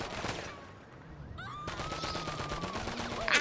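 Rapid gunfire from guns mounted on a car in a video game rattles steadily through the whole stretch, a continuous automatic burst under engine drone and game effects.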